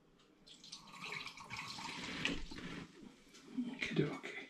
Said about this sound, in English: Shower tap on. Let's just give the demijohn a little rinse.